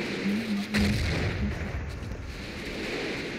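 Grenade explosions and gunfire from the video game Battlefield 1942: one loud, near boom comes early, and a rumbling barrage of fire and blasts continues steadily after it, with no talk over the noise.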